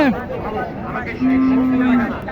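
At a cattle market, a cow lets out a long, loud moo close by after a brief lowing at the start, over faint background chatter.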